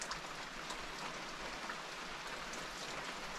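Steady rain falls outside a trail shelter on an Appalachian Trail thru-hike, a dense, even hiss of drops that stays constant throughout, with no voices.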